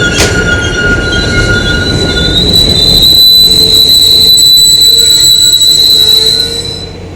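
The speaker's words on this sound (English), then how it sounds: "here comes the train" Passenger train pulling into the West Concord Depot on its 1989 opening night, loud and close, with steady rumble and high, sustained wheel squeal ringing over the rails throughout.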